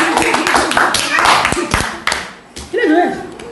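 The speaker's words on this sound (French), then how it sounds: "Applaudissons pour le Seigneur." A church congregation claps together, loud sharp handclaps close by mixed with voices and cheering, briefly dipping before resuming.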